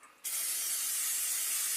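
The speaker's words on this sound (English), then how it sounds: "We're going to spray our pot." Butter-flavored cooking spray hisses into a pot in one loud, steady burst that starts abruptly and continues without pause, close by and with no talking over it.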